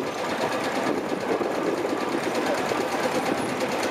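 A vintage tractor engine runs steadily at a steam and country rally parade, a rapid, even mechanical chatter that holds constant and close for several seconds with no voices over it.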